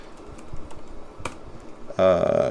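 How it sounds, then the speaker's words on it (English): Fingers type on a computer keyboard in a quick, light run of clicks that ends with a brief louder tonal sound. "I'm gonna type something in."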